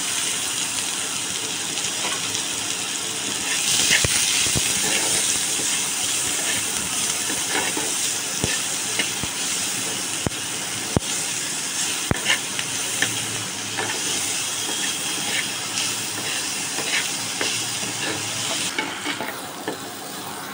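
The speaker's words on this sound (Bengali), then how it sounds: "এবার তেলে পেঁয়াজ দিয়ে দিচ্ছি" Onions and green chillies sizzle steadily in oil left over from frying eggplant, a continuous close hiss with occasional scraping stirs throughout.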